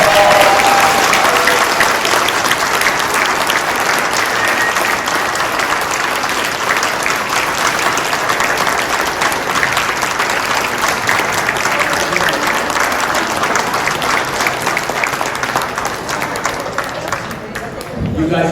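Loud, sustained applause from a convention audience at an Aliens film panel at Days of the Dead in Las Vegas, a dense wash of clapping that holds steady for the whole stretch and tapers slightly at the end.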